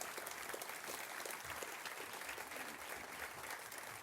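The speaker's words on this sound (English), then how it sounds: "I want to give them a round of applause for their amazing work" An audience at a Long Beach training center dedication gives firefighters a sustained round of applause, a dense, even clapping that continues steadily throughout.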